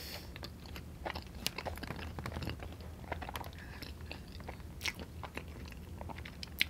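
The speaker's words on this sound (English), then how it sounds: "This is the voodoo fries." Wingstop voodoo fries topped with cheese, Cajun seasoning and ranch are eaten up close, with repeated soft crunches and wet chewing in an irregular rhythm and no talking.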